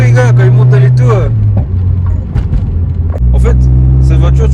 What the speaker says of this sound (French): Le bruit, gars, quand il monte dans les tours.